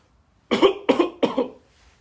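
A person imitates a cough: three short, sharp coughs in quick succession, close and fairly loud.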